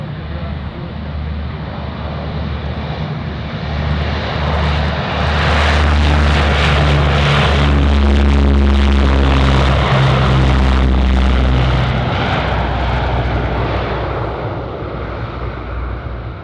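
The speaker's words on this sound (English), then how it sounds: "Having the C-130 take off on runway 25 left, up close and personal." A Lockheed C-130 Hercules turboprop takes off from runway 25 left at Anchorage airport close by, its propeller drone swelling to a loud, sustained roar and then slowly fading.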